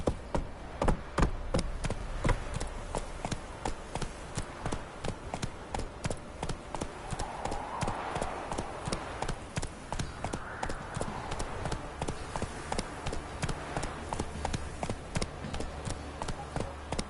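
Roach the horse gallops in The Witcher 3, a steady, rapid clip-clop of hooves running continuously at moderate volume, with faint game sounds underneath.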